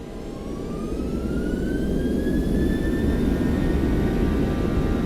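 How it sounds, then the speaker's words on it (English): Boeing 737 jet engines in the X-Plane 12 flight simulator spool up to takeoff thrust, a broad steady roar with a whine rising in pitch as power builds, no voices present. "Set takeoff thrust."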